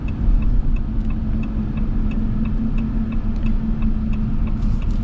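A 2026 Ram 1500 Warlock pickup cruises from inside the cab, a steady low road rumble and engine drone with light periodic ticking throughout.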